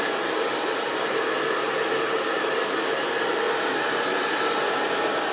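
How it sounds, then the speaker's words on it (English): A hair dryer blows steadily and loudly, a continuous broadband whoosh with no pauses and no voices throughout. "Also gonna grab my hair dryer here."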